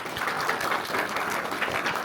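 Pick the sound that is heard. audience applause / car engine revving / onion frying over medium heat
audience applause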